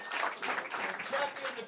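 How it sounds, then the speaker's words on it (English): An audience at the Vice City Classic WNT Rankings Event finals applauds the event crew and referees with dense, steady clapping that lasts the whole moment, with voices mixed into it. "let's give a round of applause for all those people"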